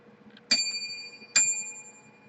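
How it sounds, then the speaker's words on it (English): Two bright bell rings sound close together, each a sharp metallic strike with a short fading ring, spaced under a second apart over a quiet background. "Those 2 bells."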